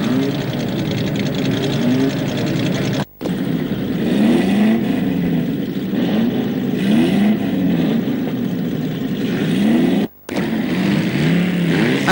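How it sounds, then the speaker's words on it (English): Group 1 saloon cars, among them a Chevrolet Camaro, rumble and rev at Mallory Park circuit, a loud continuous engine roar with rising and falling pitch as cars pass close by, with two brief cut-outs. "The deep rumble of all these Group 1 saloon cars here."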